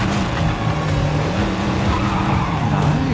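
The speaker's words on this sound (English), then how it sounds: "That drift looks nice." Car drifting in the 007 First Light video game, a continuous tire skid and squeal layered over a revving race engine with wavering pitch, loud and close throughout.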